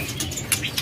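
Pet songbird in full molt, a long-tailed bird at a bird review gathering, chirping in a few short high bright calls over a low background murmur, close and fairly clear.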